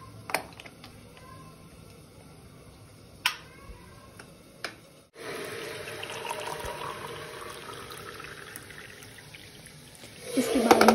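Warm drinking water is poured into a cup at home, a steady close stream whose tone rises as the vessel fills, preceded by a few light clicks and taps.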